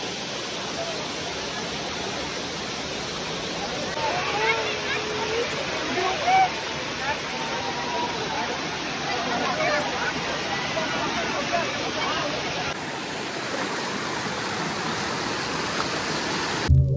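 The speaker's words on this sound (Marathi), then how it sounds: "इथून पाणी पडते" A waterfall at Malanggad, near Haji Malang, pours in a steady broadband rush of falling water that holds evenly throughout and shifts slightly in tone near the end.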